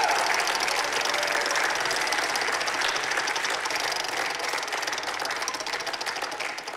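Audience applause at a stage event while a contestant named Jan spins a prize wheel, a dense, loud, steady clatter of clapping that fills the whole stretch and tapers slightly at the end.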